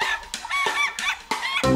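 An ayam ketawa laughing chicken crows close and loud in a rapid series of chopped, cackling bursts that rise and break off in a stuttering, laugh-like rhythm.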